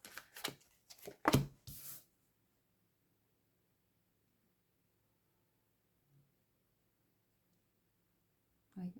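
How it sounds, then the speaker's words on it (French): Tarot cards are drawn and shuffled for a reading: a quick burst of crisp riffling and slapping card sounds at the start, then near silence with a faint later tap. "je vais d'abord tirer les cartes"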